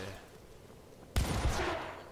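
Gunfire erupts in the Syndicate video game after a quiet second: a sudden loud burst of rapid shots, then continued heavy firing through the rest.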